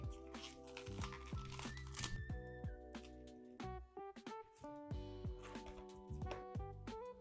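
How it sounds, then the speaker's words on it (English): Large cabbage leaves are torn into smaller pieces by hand for a compost bucket. The sound is a close, continuous run of crisp tearing and crinkling, and faint speech can be heard in the background. "I think these big cabbage leaves, I'm just gonna rip them into smaller pieces."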